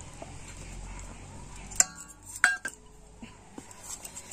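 Sponge cake batter with added flour is mixed in a steel bowl, giving soft scraping strokes broken by a few sharp metallic clinks and taps of the utensil against the bowl, close and without talk.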